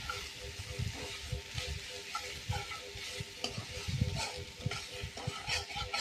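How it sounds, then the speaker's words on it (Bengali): Ginger-garlic paste, turmeric and salt masala fry in a pan with a soft sizzle, broken by frequent scraping stirs and clinks at an uneven rhythm, close and fairly quiet. "দিয়ে ভালো করে মশলাটা এবার কষিয়ে নেব।"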